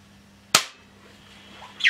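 A single sharp, loud crack from an airgun fired over an Air Chrony chronograph, ringing briefly over a faint steady electrical hum. A smaller click-like noise follows near the end.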